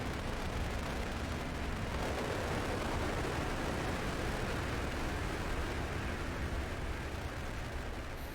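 An N1 rocket launching in Mars Horizon, a continuous, dense, even roar of engine noise that holds steady throughout without breaks, fairly quiet overall.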